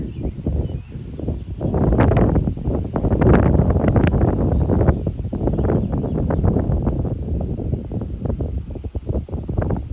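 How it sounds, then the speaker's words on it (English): Strong gusty wind buffets the microphone in loud, low rumbling bursts that rise and fall continuously throughout. "it's such a windy day here"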